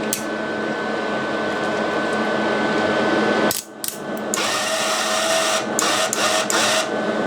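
A Rockworth gasless MIG welder with a wire feed fault has its gun trigger pressed, and the feed motor runs in a steady mechanical whir that cuts out briefly partway and then restarts with a few clicks.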